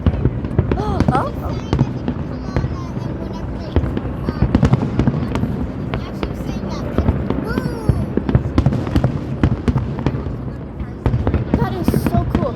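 A steady barrage of fireworks bangs and crackles for over twelve seconds, with dense rapid pops and occasional louder booms, as children talk excitedly throughout.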